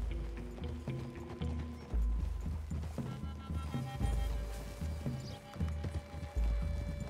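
Horses trotting in the video game Red Dead Redemption II, steady rhythmic hoof clops on soft ground with a low rumble of game music underneath, close and continuous.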